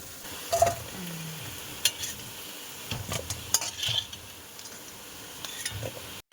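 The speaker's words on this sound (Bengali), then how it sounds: "আলুটা কিন্তু খুব ভালোভাবে এই তেলের মধ্যে সিদ্ধ হয়ে গেছে" Potatoes and taro frying in oil in a pan, a low sizzle under intermittent scraping and clinking of a spatula, close and fairly quiet, with no talking.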